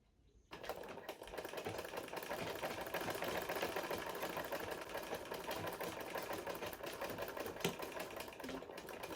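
A sewing machine back stitches a seam on Yoruba iro and buba attire, starting abruptly and then running in one steady, continuous whir for about nine seconds, close and moderately loud, with no voices.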